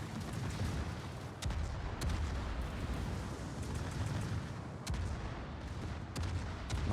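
Naval guns boom in a World of Warships competitive match, heavy rumbling salvos with a few sharp cracks rising over a constant low roar of distant battle.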